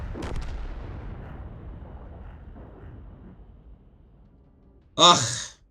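A Kampfpanzer tank in a video game fires, a sudden loud boom near the end after a quiet stretch with a fading rumble at the start.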